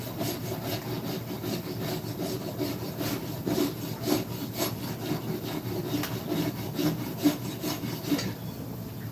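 A farrier rasp files wood in steady, rhythmic rough strokes, close and moderately loud, each pass a coarse scraping rasp, continuing evenly for several seconds alone without speech.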